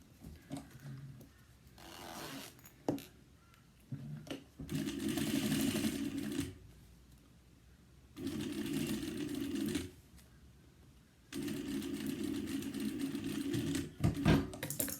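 Sewing machine running basting stitches along fabric edges for a cross-body zip bag, in three steady bursts of whirring stitching with quiet pauses and handling noise in between.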